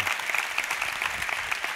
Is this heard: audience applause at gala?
yes